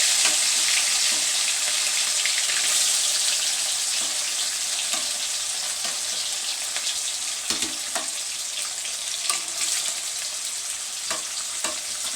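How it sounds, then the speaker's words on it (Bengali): Snakehead fish sizzles steadily as it fries in a pan, a dense continuous crackle with a few sharper pops and faint stirring clinks, no voices. "মাছটা ভাজা হয়ে গেছে"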